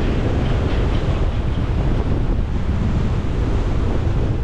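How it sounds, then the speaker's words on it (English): Strong wind blowing hard on a blustery day, a loud continuous roar buffeting the microphone with no letup. "The wind is blowing so much, it's like pushing against my nostril."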